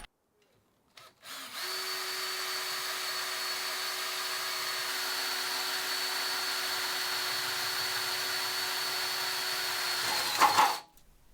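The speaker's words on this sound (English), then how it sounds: "Now I can mark out where the holes need to go for the bolts and get those drilled out." A power drill bores bolt holes in a barrel lid for a cyclone separator, its motor whining steadily and close for about nine seconds before stopping.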